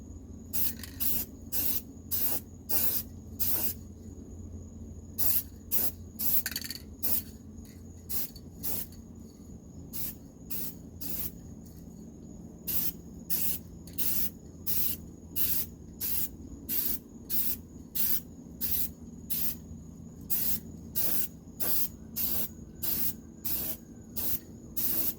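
Aerosol primer sprayed on the underside of a Buick Rainier, many short sharp hissing bursts in quick uneven succession, close and fairly loud, with brief pauses between them.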